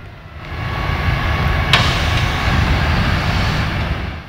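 A steady low rumble of a small tourist trolley train pulling into a platform close by, with a brief squeal partway through, loud and continuous.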